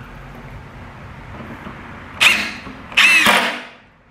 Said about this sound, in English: Fasten this one to make sure nothing moves so I can drill my other holes